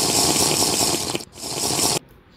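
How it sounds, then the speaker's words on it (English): Minecraft drinking slurp sound effect from the video game, a steady wet liquid gurgle lasting about two seconds with a brief dip midway, then cutting off abruptly. "put the Minecraft slurp sound or the gulp"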